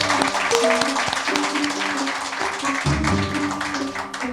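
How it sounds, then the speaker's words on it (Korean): At the opening of a Korean current-affairs talk show, a studio audience claps in quick, crisp bursts, close and lively. Voices and tones carry over the clapping throughout. "국민TV 시사 토크 맘마이스 여러분의 힘찬 박수와 함께 시작하겠습니다."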